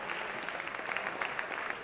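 Applause from the floor of Venezuela's National Assembly in session, a quiet, distant patter of many hands clapping steadily throughout, with no voices on top.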